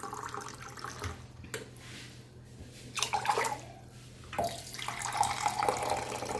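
Water runs and splashes into a pan for sugar syrup, an uneven gushing pour in bursts, with brief clanks between.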